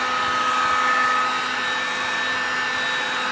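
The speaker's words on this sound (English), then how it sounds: "Probably gonna run my heat gun out here too and give it some warmth besides that." A heat gun blowing hot air during work on a Suburban body lift, a steady loud whooshing roar with a faint whine, constant throughout.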